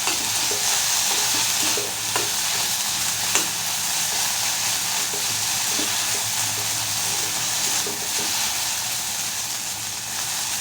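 Cumin, coriander and pepper powder being stirred into a sizzling pan with ginger-garlic paste, a steady frying hiss under soft, rhythmic scraping of a spoon, with no voices.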